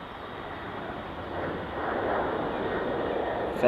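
A FedEx aircraft at Dublin Airport, emerging from low cloud, produces a steady, broad jet roar that swells gradually and holds at moderate distance throughout.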